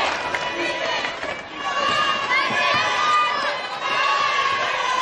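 A crowd at a high school girls basketball semifinal chants for defense, a loud sustained roar of voices filling the gym beneath a commentator's speech.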